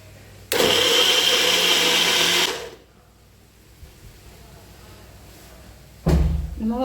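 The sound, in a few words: blender jar running, making apple juice with milk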